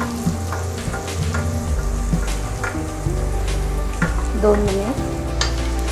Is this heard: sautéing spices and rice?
yes